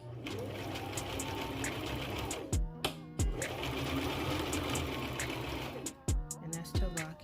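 Sewing machine stitching in fast bursts, running steadily and then stopping and starting with short back-and-forth runs that lock the stitches, close and fairly quiet.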